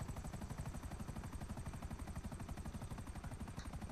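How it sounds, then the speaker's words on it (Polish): Helicopter in a GTA 5 Online helicopter race, its rotor beating in a fast, steady pulse with a loud engine drone that stays constant and close throughout. "Wyścigi helikopterów to nie był najlepszy pomysł."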